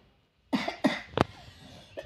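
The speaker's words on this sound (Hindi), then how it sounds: "खांसी बहुत हो रही है," A woman with a cold coughs three times in quick succession, then gives a fainter cough a moment later, close and alone in a quiet room.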